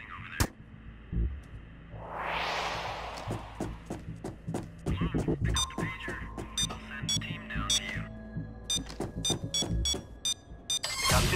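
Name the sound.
alarm going off in PAYDAY 2 video game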